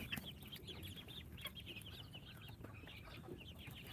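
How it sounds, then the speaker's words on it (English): Baby chicks and adult chickens at a backyard coop, with soft repeated clucks and high chick peeps scattered over a low background murmur, faint and fairly close. "Just feeding the baby chicks and released them a couple minutes ago and took care of all the chickens."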